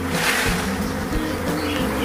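A large honeybee swarm being shaken into a box during a beekeeping swarm retrieval, giving a loud, dense, continuous buzz close by, steady throughout with no talking.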